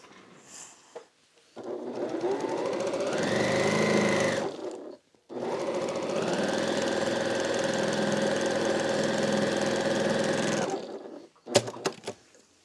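Sewing machine stitching a quilt, running in two long, steady, close whirring bursts of rapid mechanical rhythm with a brief pause between and a few clicks at the end, with no one talking.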